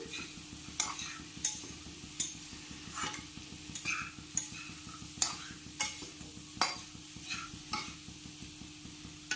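Papaya and chickpea curry is stirred in a pan, a spoon scraping in a steady repeating rhythm over a soft continuous sizzle, close and fairly quiet.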